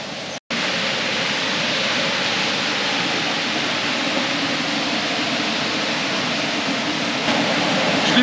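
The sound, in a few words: mountain torrent rushing water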